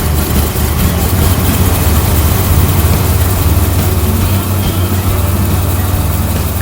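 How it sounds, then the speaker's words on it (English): Airboat engine roaring on a Louisiana outing, a loud, constant low droning rumble with a dense buzzing texture that stays steady from start to finish. "As the engine roared to life"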